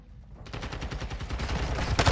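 Rapid automatic gunfire in Call of Duty MWII, a fast evenly spaced string of loud shots fired through a wall, starting abruptly after a brief quiet moment and continuing to the end.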